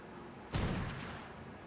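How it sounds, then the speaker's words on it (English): A single fabricated sniper rifle shot in ARK: Survival Evolved, one sharp booming report with a brief rolling tail, fairly loud and heard alone over quiet background. "next up we have the fabricated sniper rifle"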